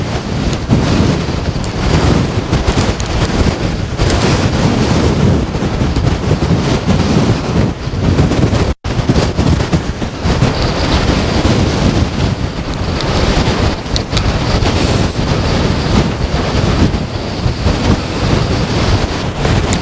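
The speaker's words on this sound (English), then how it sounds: "The wind is brutal." Strong 50mph storm wind roars and buffets a Collins Outdoors Strong Breeze ultralight tent at a wild camp, a loud continuous broadband rush with no letup apart from one brief dropout.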